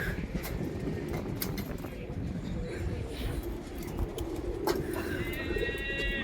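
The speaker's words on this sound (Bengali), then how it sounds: "অনেক কটাই আছে পায়রা এখানে" Pigeons coo softly over a steady background murmur, with a brief bright chirping trill near the end.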